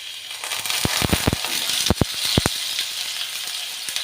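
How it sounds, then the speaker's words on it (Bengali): Prawns frying in hot oil, ahead of cooking them with taro, give a steady bright sizzle with a burst of sharp crackling pops in the middle before it settles back to a continuous hiss. "এই জন্য প্রথমে চিংড়ি মাছটাকে একটু ভেজে নেব।"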